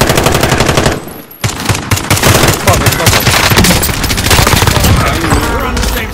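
Rapid automatic gunfire rattles through a Warzone match in loud, dense bursts. A brief lull breaks the shooting before sustained volleys resume, layered with background game sounds.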